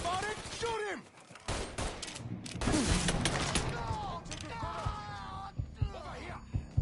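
Bursts of gunfire crackle through a Mafia III shootout, rapid volleys and single shots mixed with shouted voices and yelling over a dense combat backdrop.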